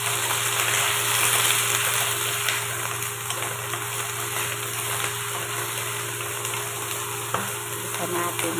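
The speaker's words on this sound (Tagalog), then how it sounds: "Now, ilagay natin ang bamya or okra. Gisa natin." Okra sautéing in a hot pan gives a steady, loud sizzle that runs continuously, with occasional stirring scrapes close by and no talking.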